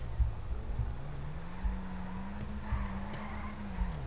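A car driving in a GTA V roleplay session hums with a steady low engine tone that rises gently in pitch, with a few light knocks and faint higher noise over it, moderately quiet and without talk.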